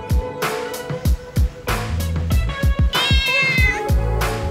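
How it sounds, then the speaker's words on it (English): Cats meow repeatedly on Gili Trawangan island, a close, loud run of many short cries in uneven rhythm, some drawn out and wavering, with no talk. "I love that there's so many cats on the island."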